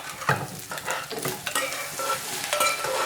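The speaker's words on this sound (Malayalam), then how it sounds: "ഇനി നമുക്കിതിലേക്ക് ഗ്രീൻ പീസ് വേവിച്ചത് ചേർത്ത് കൊടുക്കാം." Cooked green peas stirred into a street-style egg stir fry in a pan, with scraping spatula strokes over a continuous sizzle, close and clear.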